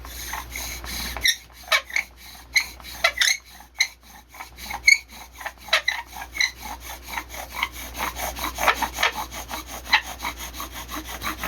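Rhythmic rasping strokes of a wooden bow drill grinding into eastern red cedar, back-and-forth squeaks speeding up after a brief pause, close and fairly loud.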